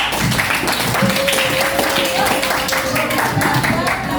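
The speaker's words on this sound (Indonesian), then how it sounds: "tepuk tangan dulu untuk Wardah." A classroom of students claps steadily for several seconds, a busy patter of applause with some voices mixed in.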